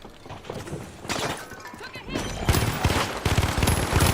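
Video game gunfire from teammates, with dense rattling bursts of automatic shots and scattered single cracks that grow busier toward the end, mixed with game noise and a voice.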